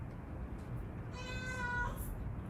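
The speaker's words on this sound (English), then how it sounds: "so my cat is noisy" A pet cat lets out one drawn-out meow in a home kitchen, a little distant behind a steady background hiss, with no talking.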